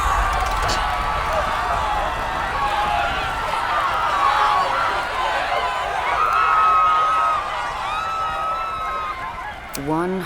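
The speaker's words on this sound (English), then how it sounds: "Cries of panic and a stampede of feet clap the pavement" A panicked crowd stampedes in the Aether & Iron video game, with a steady wash of frightened cries and voices swelling and fading over running feet, loud and close throughout.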